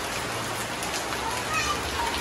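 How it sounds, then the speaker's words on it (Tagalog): Steady rain pours during a typhoon outside a house, a dense even hiss of drops hitting surfaces throughout, with a faint voice in the background. "So, raining. Bagyo na naman dito."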